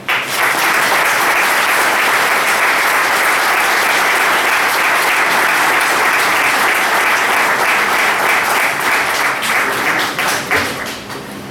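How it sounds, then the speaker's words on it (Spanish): Strong, sustained applause from an audience at a lecture event, dense even clapping that holds for about ten seconds before thinning into scattered claps and fading. "con un muy fuerte aplauso tiene la palabra"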